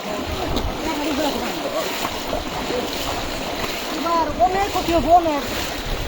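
Fast-flowing floodwater rushing and splashing steadily close by in Sherpur, a continuous churning roar with wind buffeting the microphone and excited voices talking over it.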